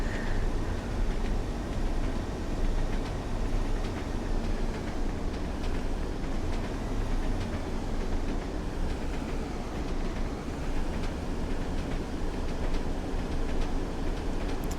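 Inside a Trans-Pennine train riding the rails, a loud, continuous low rumble and rushing roar hold steady throughout with faint rhythmic rattles and no talking.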